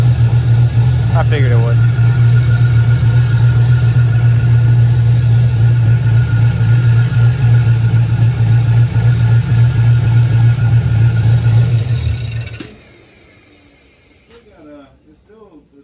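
A car engine runs hard on a dyno, a loud steady low drone for about twelve seconds before cutting off abruptly, leaving quiet room noise where people talk.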